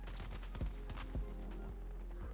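Burst-fire rifle shooting in a Battlefield game, heard as several quick clustered shots in short bursts over a steady rumbling battlefield background, with no talking in the clip.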